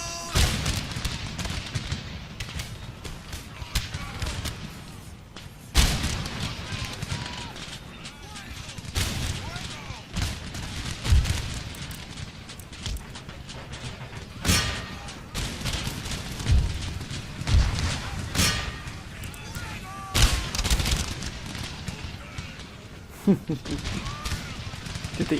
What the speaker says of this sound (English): Give them a volley, lads.